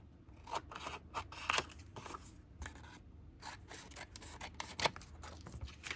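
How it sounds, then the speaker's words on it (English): Scissors snip through paper for a junk journal, a close series of crisp, uneven cuts and rustles with short pauses between them, no talk. "I'm going to cut a piece off."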